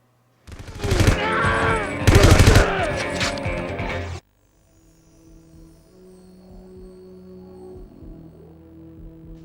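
Heavy shotgun blasts and rapid gunfire in the video game 007: Everything or Nothing, a loud dense volley lasting a few seconds, then it cuts off to a low hum and faint background sounds.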